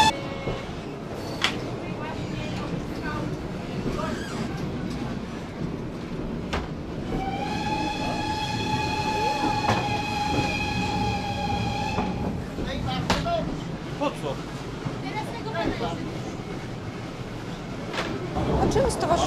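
An old heritage steam train rolls along the rails in Poland with a steady rumble and clatter, a long sustained whistle sounding midway, while people talk nearby.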